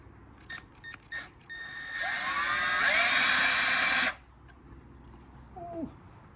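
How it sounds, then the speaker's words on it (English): Drill boring out holes on a steel wheel rim: a few short whirring bursts, then a sustained loud high-pitched drilling whine for about two seconds that stops abruptly, followed by quiet with a faint squeak. "I'm gonna drill them out."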